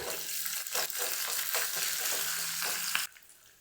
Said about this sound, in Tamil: கடுகு பொரியுது